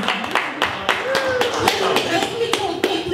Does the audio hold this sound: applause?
yes